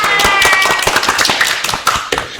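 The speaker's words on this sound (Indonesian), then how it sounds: "Tepuk tangan." A small audience at a student council show claps their hands together, a loud, close flurry of quick uneven claps filling the whole moment.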